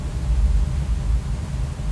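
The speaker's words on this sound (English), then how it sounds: "This is most of the time the sound that you have when you record with your phone, especially UGC content." Steady, low rumbling background hiss and room noise typical of a phone recording, continuous and fairly loud throughout, with no speech.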